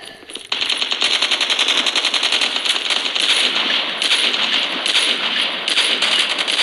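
Rapid automatic gunfire in the mobile shooter Call of Duty Mobile, a dense, loud, continuous rattle of shots that starts after a brief pause and carries on to the end without talking.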